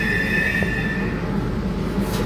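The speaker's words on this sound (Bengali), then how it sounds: "মেট্রো এখন ঢুকবে, এই চলে এসেছে মেট্রো" A crowded metro train pulls into Phoolbagan station on the line toward Sector Five with a loud, steady rumble and a high wheel squeal that fades partway through. A hiss of air swells near the end, and no one speaks.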